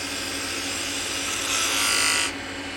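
A woodturning tool cuts into a spinning wooden lid blank on a lathe. It gives a steady, fairly quiet scraping hiss that swells louder and brighter near the end, then cuts off abruptly.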